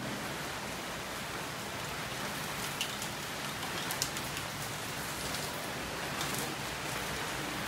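A downpour in Orlando, Florida roars as a thick, unbroken wash of rain hammering nearby surfaces, loud and even throughout with occasional brighter spatters.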